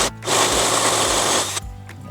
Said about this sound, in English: the best way to do that is to use a flat bit,